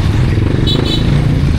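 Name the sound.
motorcycles crowded in the street at Divisoria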